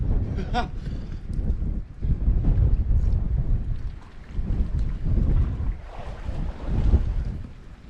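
Steady gusting wind on the coast buffets the microphone with a low, rumbling roar that swells and eases throughout, with no clear voices.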